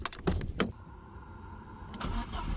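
A 1994 Audi 80 B4 engine is started: a few sharp mechanical clicks and cranking bursts, then a steady mid-pitched running tone settles in, heard close with no talk.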